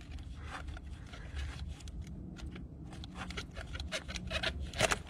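Pliers grip and twist a rubber hose off a barb on an oil catch can fitted to a Honda CR-V or Accord 1.5L, giving close, irregular squeaky rubbing and scraping bursts that grow louder toward the end.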